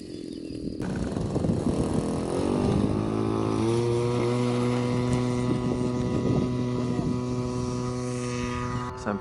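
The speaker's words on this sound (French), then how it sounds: "C'est un planeur qui se fait remorquer." A small propeller tow plane engine pulls a glider aloft at an airfield, its steady droning hum rising in pitch and then holding at a loud, sustained level throughout, with no voices.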